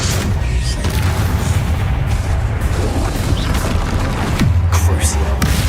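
Incendio fire spell cast in the video game Hogwarts Legacy: a loud, continuous roaring blast with heavy booming thuds and rumble throughout.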